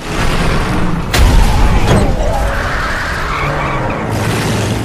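A car skids loudly with a long tire screech and rumbling engine in a tense horror-film chase scene, with a sharp bang-like burst early on and sustained road noise throughout.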